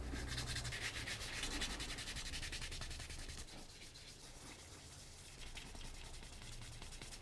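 A fine abrasive rubs over a wax clay sculpture in quick, steady back-and-forth strokes, close and faint, with a brief pause midway before the scratchy rubbing resumes.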